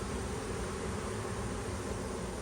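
Dense buzzing of a honeybee swarm hanging in the open air below a trap, a steady close hum of many wings filling the space without pause.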